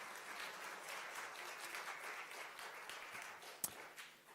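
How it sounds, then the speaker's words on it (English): An audience applauds designers at the Kazerne Design Award Show, a steady crowd of clapping hands sustained throughout, soft and somewhat distant with one sharper clap near the end. "Designers, can you please stand up so we know where you are? Designers, yes. Okay, yeah, give me an applause."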